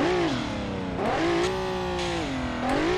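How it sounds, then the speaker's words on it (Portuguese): A car engine revving in the video game BeamNG Drive, where the car has rolled over but landed on its wheels and keeps running. The tone is loud and steady, rising and falling in pitch with throttle swells. "Escuta o motor."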